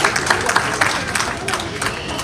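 Steady clapping from a crowd at a Menstrual Hygiene Day celebration in Busia Polytechnic, welcoming an honoured guest; dense, continuous applause with some voices mixed in.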